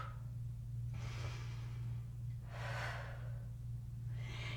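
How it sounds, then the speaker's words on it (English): Strong exhaled breaths during a core workout, two or three breathy whooshes separated by pauses, close and clear over a steady low hum. "Exhale."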